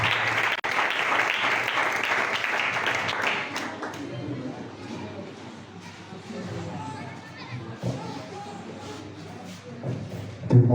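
A church congregation breaks into loud, dense applause for several seconds. The clapping then fades into quieter shuffling and murmuring voices, and a thump comes near the end.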